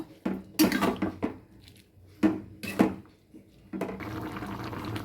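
Spoon scraping and clanking in a pot of prawn, pumpkin and stalk curry as it is stirred, several distinct metallic knocks among softer stirring and bubbling, close up with no talking.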